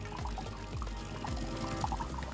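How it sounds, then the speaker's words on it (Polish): Hot water streams from a De'Longhi Dinamica espresso machine that has a fault tripping the household power. The flow is a soft, steady, continuous pour with a faint gurgle. "Woda leci, jak widać,"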